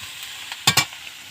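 Leafy greens (saag) fry in a pan during hot weather, a soft sizzle broken by a few quick stirring scrapes, two sharper strokes close together near the middle.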